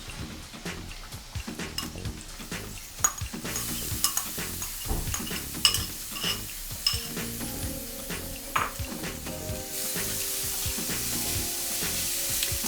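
Browned onions and grated carrot are stir-fried in a pan, giving a steady sizzle broken by repeated metallic scrapes and clinks of a spoon against the pot, close and loud, with no voices.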